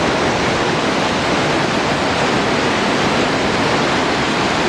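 Steady, loud rush of river water flowing over rocks at Scorhill on Dartmoor, a dense, unbroken roar heard up close with no voices.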